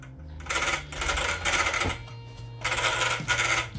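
Loose gear play in the drivetrain of an Arrma Kraton EXB 6S RC car makes bursts of close metallic rattling and clattering, two longer stretches broken by brief pauses.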